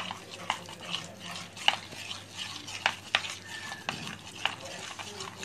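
Yogurt being whisked with saffron-soaked milk in a bowl for bhapa doi, a spoon scraping and tapping in quick irregular strokes, faint and close, with light clinks against the bowl.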